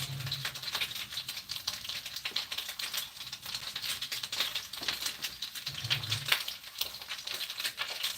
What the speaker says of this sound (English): I'm going to cut it across.